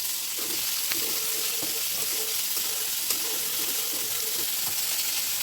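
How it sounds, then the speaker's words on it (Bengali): Steady sizzling of spices stir-fried in a wok, with repeated scraping and tapping of a spatula stirring against the metal, fairly close, no talking. "পেঁয়াজটা ভাজা হয়ে গেলে আমি মশলা দিয়ে মশলাটা ভালো করে কষাতে থাকবো"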